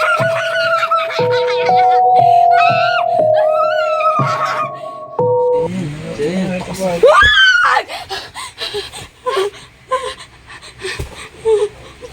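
A person screams during a nightmare, rising in pitched wails over a musical tone, followed by panting, talking and laughter nearby.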